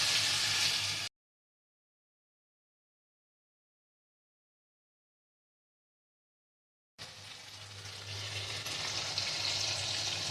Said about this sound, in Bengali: ভেজে রাখা মাংসগুলো দিয়ে দেবো, দিয়ে আবার ভালোভাবে নাড়াবো।